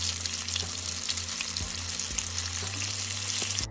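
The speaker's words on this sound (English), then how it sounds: "You're going to fry for about 10 minutes on medium low until they're nice and golden brown" Chicken pieces fry in oil over medium-low heat, giving a steady, close hiss and crackle that runs unbroken for the whole stretch, with a few soft knocks from a pan underneath.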